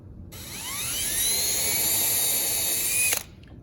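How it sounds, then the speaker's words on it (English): A small high-pitched drill whines up to speed as a tiny bit bores a hole in a wooden ukulele, runs steadily for a few seconds, then stops abruptly. "We're just drilling a small little hole"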